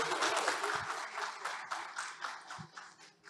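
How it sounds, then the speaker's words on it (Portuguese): A room full of people at a debate applauds, a dense patter of clapping that gradually fades toward the end. "Salva de palmas aqui."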